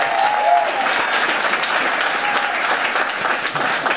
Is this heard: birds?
no